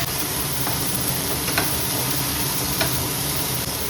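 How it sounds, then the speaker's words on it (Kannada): Spices tempering in hot oil for a village-style home meal, a steady close sizzle with faint crackles and light stirring throughout, no voices. "ಇವಾಗ ಒಗ್ಗರಣೆ ಮಾಡ್ತಾ ಇದ್ದೀನಿ ಅಲ್ವಾ, ಇವಾಗ ಹಾಕ್ತೀನಿ."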